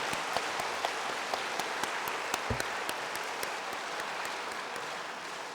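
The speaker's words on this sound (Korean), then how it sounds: "우리 하나님과 여러분 서로를 향해 다시 한번 감사와 격려의 박수를 올려드립니다." Church congregation applauding in thanks and encouragement at a centenary thanksgiving service, a steady dense wash of many hands clapping with faint sharper claps standing out, sustained throughout at moderate loudness.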